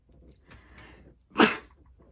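A single sneeze from a person: a couple of soft breathy intakes build up, then one loud, close, explosive burst that quickly fades to quiet.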